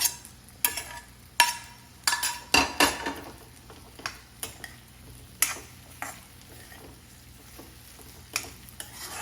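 Okra tipped into a pan of frying onions gives soft sizzling broken by sharp, irregular scrapes and clinks of a spoon stirring against the metal, fairly close and moderately quiet.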